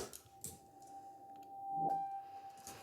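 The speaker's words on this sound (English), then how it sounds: "I also took the very first note and I reversed it," Reversed piano note used as a lead-in: a faint, sustained tone swells gradually to a peak near the end before the next soft attack, very quiet and alone.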